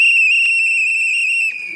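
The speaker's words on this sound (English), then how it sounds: "these whistles are ringing loud" A single loud, sustained celebratory whistle blast, bright and piercing with strong overtones, held steadily for about a second and a half before cutting off.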